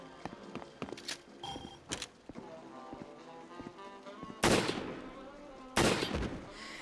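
Two loud, sharp cracks from a semi-auto rifle in Resident Evil 4, spaced over a second apart and near, following a stretch of footsteps and faint clicks.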